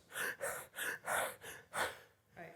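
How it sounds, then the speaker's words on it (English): A man demonstrates rapid panting during a coaching session, with about six sharp, evenly spaced breaths close to the microphone and no talk over them. "If I relax and start panting"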